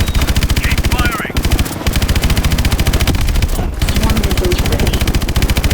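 Sustained machine gun fire from Call of Duty: Advanced Warfare, loud rapid rhythmic bursts with two brief pauses, accompanied by mechanical whirring.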